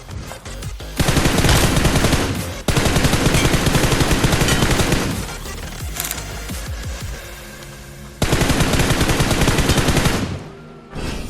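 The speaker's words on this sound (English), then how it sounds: "You have to pick M4 and try to kill them with sprays." Sustained automatic spray fire from an M4 rifle in BGMI, long loud bursts of rapid shots broken by brief pauses, close and dominant with no talk.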